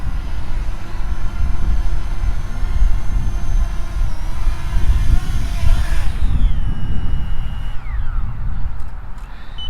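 A Fimi Mini drone flying in to land outdoors gives a steady whine that dips in pitch as it descends, heard over constant loud wind rumble.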